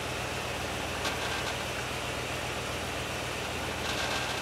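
A Ford 460 EFI V8 idles steadily at close range with a continuous, even low rumble and no voices, the engine speed easing down only gradually.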